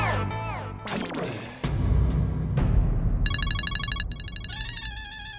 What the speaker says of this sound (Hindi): देखो फिर से पार्टी का फोन आ गया